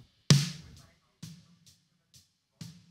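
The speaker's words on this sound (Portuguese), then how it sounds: "Esse é o som da caixa" Recorded snare drum without a trigger, played solo from a drum mix: one loud crack followed by several softer hits and ghost notes with a short ringing body, close and dry with silence between strokes.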